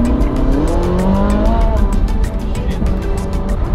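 A Ferrari 458 in race mode on a wet road, its engine revving loud and close as the tyres lose grip, pitch rising and falling with wheelspin and squeal, mixed with rushing road noise.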